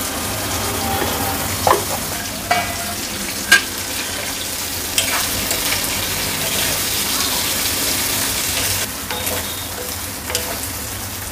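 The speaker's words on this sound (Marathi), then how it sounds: "ह्याच्यामध्ये बोंबील घाले आहे. साधारण तळून घ्यायचं." Bombay duck fish pieces frying in hot oil with turmeric, a steady dense sizzle running throughout with a few sharp crackles and pops near the start and occasional stirring clatter.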